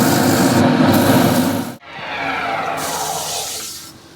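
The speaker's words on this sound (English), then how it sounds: "So quickly sand this." Steady abrasive rubbing of sandpaper against spinning wood, loud and close, briefly stopping then resuming for a second continuous pass.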